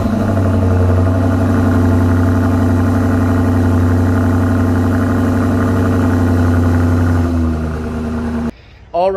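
A 2022 Alpina XB7 running after a remote start, a loud steady engine drone with strong low hum throughout, easing slightly near the end before cutting out abruptly.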